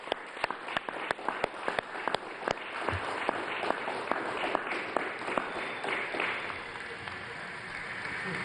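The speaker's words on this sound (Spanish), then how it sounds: "con un aplauso desde aquí," Audience applause at a Havana event, beginning with distinct, evenly spaced loud claps and thickening into a continuous wash of clapping from a crowd, with a low hum underneath.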